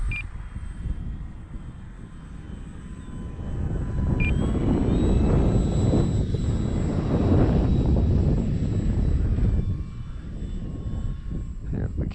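Dynam Waco RC biplane flying a knife-edge pass, its electric motor whining and swelling as the model draws nearer then fading, with faint beeps and someone talking over the engine noise.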